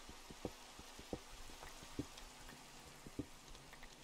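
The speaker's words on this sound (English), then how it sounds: "Oh no, it's raining." Rain falls in a modded Minecraft village as a faint, steady patter and hiss, with sparse louder drops or clicks scattered throughout, quiet and distant with no talking.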